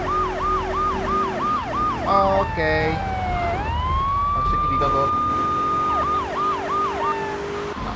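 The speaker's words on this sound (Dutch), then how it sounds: "Nou, sirenen zijn niet nodig hier." Police sirens in the video game GTA 3 wail in repeated rising and falling sweeps, then hold a long steady tone before the wailing resumes, loud and close, with someone talking over them.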